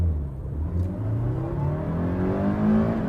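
A first-generation Toyota MR2 engine revs as the car launches from a standstill, a close, steady mid-range drone that climbs gradually in pitch, heard alone without any talking.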